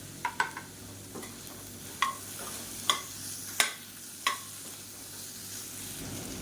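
Cauliflower is stir-fried in a pan for a Tamil lunch box recipe. A steady soft sizzle runs throughout, broken by about eight crisp spatula clacks and scrapes at irregular intervals.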